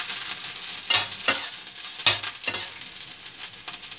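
Chopped onion sizzling in hot cooking oil in a pan for ginisang sitaw, a continuous close crackle and hiss broken by several louder bursts as a utensil stirs it.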